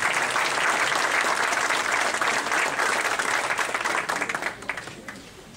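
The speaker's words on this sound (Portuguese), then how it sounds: "Pode aplaudir." A church congregation at a cantata in Elizabeth, New Jersey breaks into steady, dense applause, loud and continuous for several seconds before thinning out and fading toward the end.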